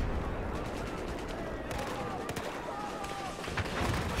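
Gunfire in Battlefield 4: scattered distant shots and bursts cracking through a busy battlefield din, fairly faint, with a voice speaking over it.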